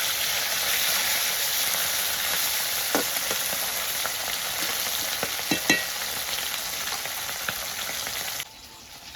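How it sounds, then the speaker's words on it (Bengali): Dhela fish fries in hot oil in a wok, giving a steady, loud sizzle with a few sharper crackles and pops partway through, until the sound cuts off abruptly near the end. "মাছটা উল্টিয়ে দিলাম, বেশি কড়া করে ভাজবো না।"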